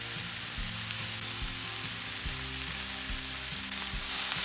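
Pre-boiled chopped beetroot with onions and Indian spices sizzles steadily in a pan, a close, continuous frying hiss with faint stirring clatter and no voices.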